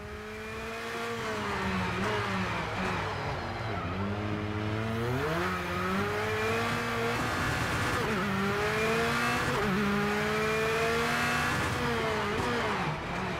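A rallycross race car in the PC driving game Project CARS 2 revs hard and loud, engine pitch climbing and dropping through repeated gear shifts and throttle changes, with faint tire noise and no talking.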